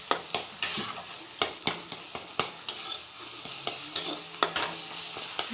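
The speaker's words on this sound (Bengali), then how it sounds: "ডিমটাকে ঝুড়ি করে নেব ঝুড়ি করে একটু ব্রাউন কালার করে ভেজে নিয়ে একটা বাটিতে তুলে রাখবো" Egg fries in oil in a kadai and is scrambled with a spatula or spoon. The utensil scrapes and taps in a steady rhythm of sharp, close strokes over a soft sizzle.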